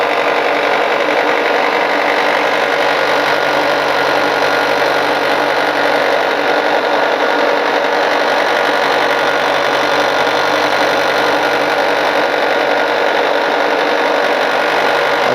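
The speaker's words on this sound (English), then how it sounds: "it's very noisy out at the sander" A sander runs loudly and continuously in a workshop while resin fishing baits are shaped, a steady dense grinding whine that fills the whole stretch with no pauses.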